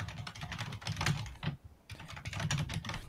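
Fast typing on a computer keyboard, dense bursts of close, crisp key clicks with a brief pause near the middle before the rapid clatter resumes.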